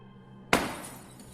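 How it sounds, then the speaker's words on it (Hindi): A sharp crash of breaking glass bursts out of near silence, loud and close, with scattering shards tinkling briefly as it fades. "कांच के टूटने की आवाज सुनाई दी।"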